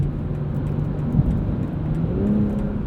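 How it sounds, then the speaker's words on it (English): Steady road noise from winter tires on a 2020 BMW M340i xDrive cruising the highway, a continuous low hum and rumble with a faint engine drone and no talk. "There is a tad bit of road noise, but I'm going to attribute that to the winter tires that are on this vehicle"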